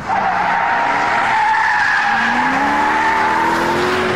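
A supercharged Ford Shelby GT500 engine pulls hard through the gears, a loud sustained roar with rising and shifting tones heard from inside the car, no talking.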